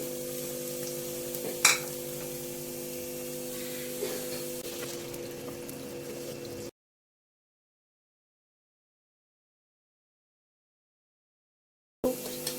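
Onions sizzle and fry in hot oil for Hyderabadi dal khasi, a soft, steady hiss with a few faint clicks of stirring, before cutting to silence and then resuming briefly.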